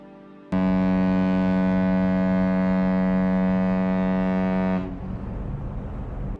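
A tanker's bow-mast typhon horn blasts one long, loud, steady low tone for about four seconds, then cuts off, leaving a rumbling echo and engine noise.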